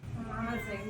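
A cat meows in one short, drawn-out call, close by and fairly soft, heard indoors at home.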